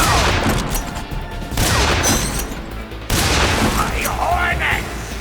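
Grenade blast and gunfire in the video game Metal Gear Solid 3: Snake Eater. Loud, dense booming and rapid firing that is nearly continuous, with shouted voices mixed in over the combat.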